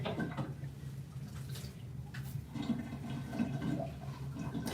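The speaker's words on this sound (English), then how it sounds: "the water's still not drained all the way yet. That sink drains so slow." Water slowly drains from a slow sink in quiet gurgles and trickles with faint drips, soft and close throughout.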